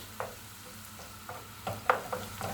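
Carrots sautéing in a pan for red lentil soup, with a soft steady sizzle under a few brief stirring scrapes and clinks, close and fairly quiet, no voices.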